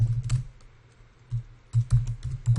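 Typing a shell command on a Mac computer keyboard running OS X El Capitan, bursts of close, fairly loud key clicks with a short pause between, no talk.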